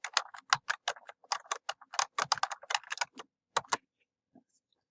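Quick bursts of keystrokes on a computer keyboard, crisp close clicks in an uneven rapid rhythm, ending with a couple of isolated taps and a pause, with no talking.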